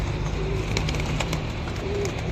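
Breeder pigeons coo in a loft, low soft murmuring calls repeating under steady background noise, with a few faint clicks.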